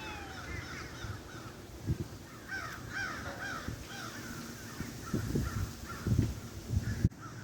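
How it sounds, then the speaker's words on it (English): Crows caw repeatedly outdoors on a cloudy day, a scattered chorus of harsh calls from several birds at moderate distance, some nearer and louder than others. "The crows are really freaking out everywhere."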